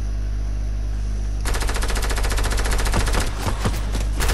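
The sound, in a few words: gunfire from the video game Fortnite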